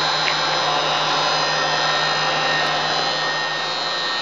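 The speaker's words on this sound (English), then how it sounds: "Right now I'm showing the lathe in the lowest gear range, currently running 63 RPM." Acer E-Series 17 x 60 inch geared head engine lathe idling in its lowest gear range at 63 RPM, giving a steady, even machine whir with a faint low hum, continuous and alone.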